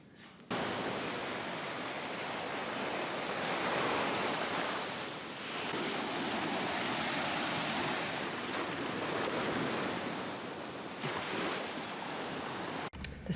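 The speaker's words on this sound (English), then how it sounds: "The sound of the ocean and just walking in that's on that sandy beach the very first time" Steady ocean surf rolls onto a sandy beach in a broad, hissing wash, swelling and easing gently with no voices present.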